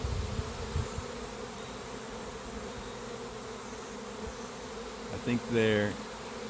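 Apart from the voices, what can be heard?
swarm of honey bees buzzing in peach tree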